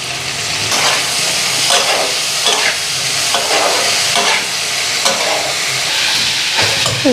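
Onion, green chili and tomato fry in a wok, a steady loud sizzle with repeated scraping stirs at a fairly regular rhythm, no voices over it.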